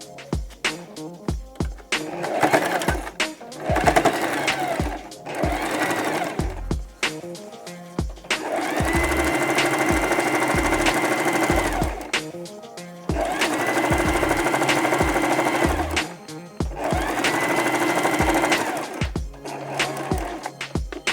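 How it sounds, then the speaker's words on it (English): Sewing machine running a straight stitch down a fabric handle, with short rapid stitching bursts followed by two long steady runs of several seconds each, close and loud, no voice over it. "Now, I'm just going to use straight stitch to sew all the way down."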